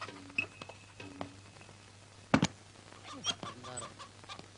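A chicken clucks in a few short bursts close by, with a louder squawk in the middle, over a quiet room with a steady low hum and faint background movement.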